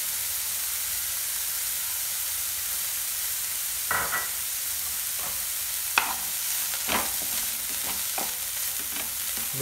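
A mushroom filling with chilli flakes, salt and breadcrumbs cooks in a pan over a steady soft sizzle, with a few scraping stirs of a spoon partway through.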